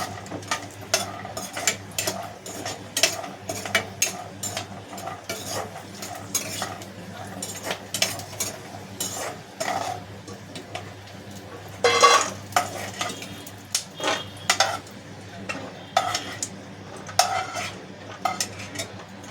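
Grated carrots for homemade carrot halwa are stirred and roasted in a pan, with a spoon scraping and clinking against the metal in irregular strokes over a low, steady sizzle.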